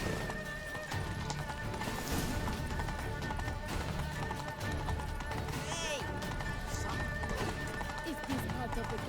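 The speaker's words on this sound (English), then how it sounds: "Damn horse." Horse galloping in the video game Witcher 3: Blood and Wine, steady clip-clop hoofbeats and an occasional whinny running throughout, mixed with game music, crowd noise and characters talking over it.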